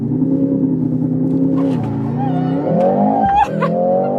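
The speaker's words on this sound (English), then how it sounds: "Launch control, acceleration," A 2024 Mercedes-AMG GLC63 S launches hard with launch control, its engine note loud and steady as it climbs through the revs, with brief shift dips along the way.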